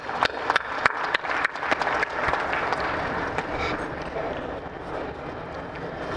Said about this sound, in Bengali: আমরা তাদের জন্য একটা জোরে হাততালি দিই।